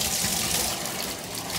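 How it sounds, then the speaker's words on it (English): Running tap water splashes steadily into a bath while a puppy is rinsed, a continuous close, loud gushing stream with no pauses. "Because I'm doing the last few rinses on Ember here."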